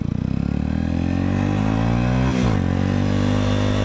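A sports bike's engine revs loud and close, its pitch climbing steadily, then briefly dipping at a gear change before pulling up again, with no talking.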